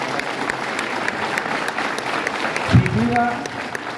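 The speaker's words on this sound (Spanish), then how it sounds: "pido un fuerte aplauso para el ingeniero Rogelio López" Applause from an audience at a municipal government event honoring an engineer, steady clapping throughout under a voice speaking in Spanish.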